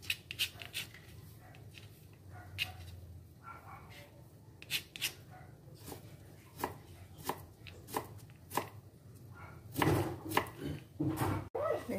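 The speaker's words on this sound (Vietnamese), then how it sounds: "Sắc hạt lựu nhỏ." A knife dices vegetables into small cubes on a cutting board, making quick, irregular close taps that speed up into a denser flurry near the end.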